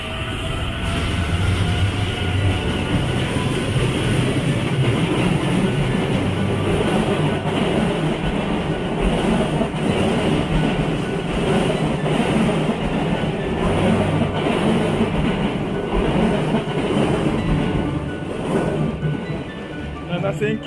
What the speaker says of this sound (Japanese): 茅島行きの普通電車が京橋駅を出発していきました